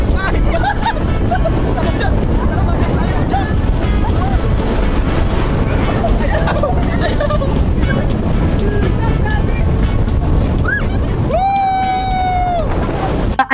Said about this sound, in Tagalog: sa lakas ng hangin at alon, pumipisik ay yung tubig, nababasa sila